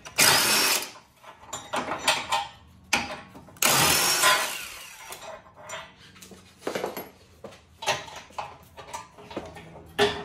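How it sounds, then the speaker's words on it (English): A ratchet with a 15mm socket works on crash bar bolts of a Fiat 500 Abarth, giving bursts of quick clicking and rattling in separate irregular spurts, fairly close and on its own without talk. "now I'm gonna go ahead and remove these bolts that secure the crash bar"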